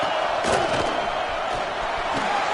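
A roaring American football stadium crowd cheers on a third-and-goal play, a dense, steady wall of voices and shouts that stays loud throughout with small surges.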